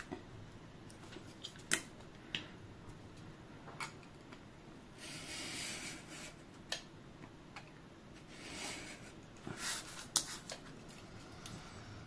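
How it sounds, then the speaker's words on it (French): A craft knife cuts a 10 cm square out of card, heard as faint scratchy slicing strokes and scattered small clicks and taps in a quiet room, with no talk. "Maintenant vous allez prendre votre cutter, ce carré de 10 cm, vous allez l'enlever."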